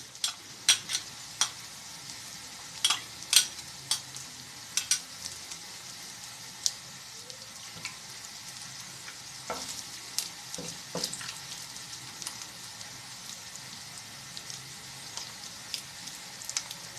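Beaten eggs fry in a pan with vegetables, giving a faint steady sizzle under scattered sharp clicks and taps of a spoon stirring, with no voices.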